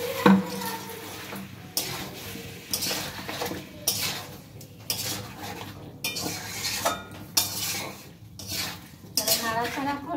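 A spoon stirs and scrapes tomato paste around a metal cooking pot, with repeated clinks and rhythmic scraping knocks close by, a faint sizzle underneath and no talking.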